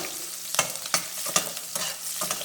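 Onion and dried red chillies fry in oil in a pan while being stirred, making a bright continuous sizzle with several quick scraping strokes, close and clear with no talking.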